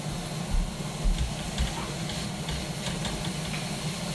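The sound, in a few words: meat sizzling in a pan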